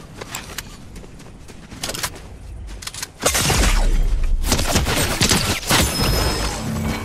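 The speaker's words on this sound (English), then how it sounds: "Oh, he's shooting at you too." Gunfire in the video game Fortnite rattles in rapid, loud bursts, with a dense, continuous volley in the second half that stays near and harsh, layered with crashes and impacts.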